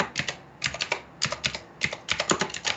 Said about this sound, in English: That is incredibly loud typing.